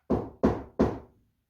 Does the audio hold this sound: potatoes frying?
no